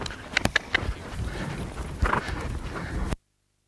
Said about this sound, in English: the horse starts to give me more trot.